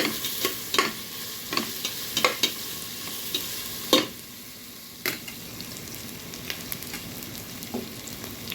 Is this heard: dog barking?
no